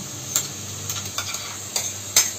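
Ground spice paste tipped into a hot pan for a dal palak lunch, frying with a soft steady sizzle and a few sharp stirring clinks spread across the moment.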